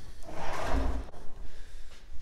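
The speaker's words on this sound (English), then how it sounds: "This is how the slide locks in place." A wooden drawer on cabinet slides being pushed home and clipped into place, a close rolling slide rumble followed by a short sharp click, then quiet.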